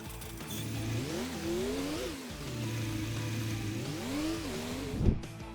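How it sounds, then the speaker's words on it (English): A modern tractor engine in Farming Simulator 25 drones steadily and rises and falls in pitch as it revs, moderately quiet, with a brief thump near the end. "A modern tractor."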